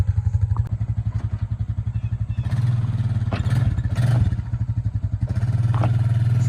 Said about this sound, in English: pull it out a little bit more with the four-wheeler